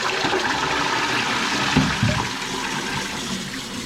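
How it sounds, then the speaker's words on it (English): A household toilet flushes with a rushing surge of water, then settles into the steady hiss and trickle of the cistern refilling, heard close and alone without talk. "I'll flush it a few times anyway."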